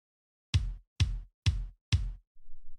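Four deep, booming bass drum strokes, the lowest musical drum, evenly spaced and ringing out alone, with a faint low rumble trailing at the end.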